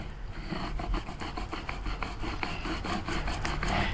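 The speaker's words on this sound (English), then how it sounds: "take the roller and roll it out where you just super glued" Hand roller pressing fabric onto a freshly super-glued car headliner shelf, a continuous close rasping rub with rhythmic back-and-forth strokes over four seconds, no voices.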